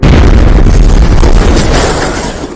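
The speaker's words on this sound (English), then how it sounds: "An explosion has occurred at the base of the Spinnaker Tower." A loud explosion goes off at the base of the Spinnaker Tower during a bomb disposal operation: a massive sustained boom with rumbling debris that fills the whole moment, then slowly tails off.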